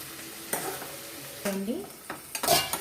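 Onion, green chili, cumin and curry leaves frying in a pan for a cucumber curry, with short bursts of sizzling and spatula scraping and stirring close by, separated by quieter moments.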